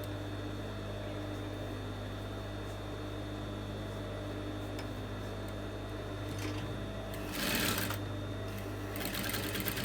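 A sewing machine stitching a senator placket (front flap) hums steadily and close, with a brief louder burst of fabric handling near the end; no voices.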